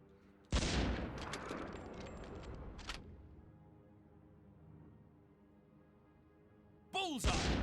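Gunfire from the computer wargame Squad Leader, a sudden loud burst of rapid shots lasting about two and a half seconds that tails off into quiet, then another abrupt loud burst near the end, with a voice speaking.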